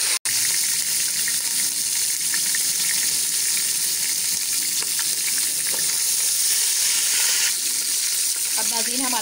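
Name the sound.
frying mutton for degi aloo gosht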